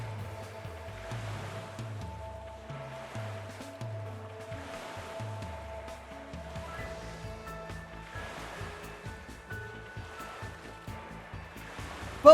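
Sea waves and wind in the video game Danganronpa: Another 2, a steady wash of surf and breeze under a backing of calm melodic music, with a brief sharp sound at the very end.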